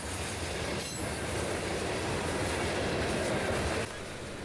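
A freight train led by an SD60E rebuild with an SD70 trailing rolls past near the track, giving a loud, continuous rumble and rush of wheels and cars that eases slightly at the end.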